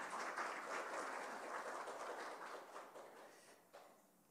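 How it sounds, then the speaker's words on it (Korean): A lecture audience at a Q&A session with Professor Kim Woo-chang applauds in a steady, quiet patter that gradually thins out toward the end, with no voices over it. "여러분 박수 부탁드립니다."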